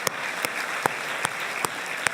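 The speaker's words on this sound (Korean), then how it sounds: "우리 하나님 앞에 감사의 박수로 영광을 돌려드립니다." Steady, dense clapping from a church congregation at a New Year's Eve service, with a few louder individual claps standing out, continuous throughout without pause.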